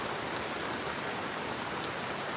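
Steady rain falling outdoors, a dense even hiss with scattered drop patter throughout, close and fairly loud, with no voices.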